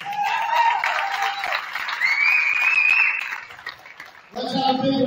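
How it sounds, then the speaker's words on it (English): Crowd applause for two senior players at a Chartiers-Houston vs Hopewell boys' high school game, steady broadband clapping in a gym with voices over a PA and some cheering, fading briefly before resuming. "Let's have a big round of applause for your seniors, Jack Hauser and Jordan Williams."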